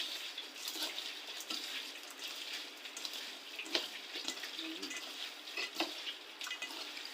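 A hand mixing guso seaweed salad with vinegar and salt, producing a steady wet, squelching, splashy rustle with small sharp clicks, close and fairly quiet, with no talking.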